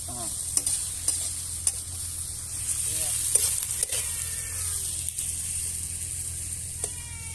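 Garlic ginger paste frying in a pan for an Odia-style prawn curry, a steady close sizzle broken by occasional scraping stirs and light clicks of a utensil, with no voices.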